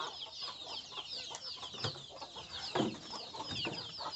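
Chickens clucking steadily over a dense, noisy background, with scattered louder clucks and no talk.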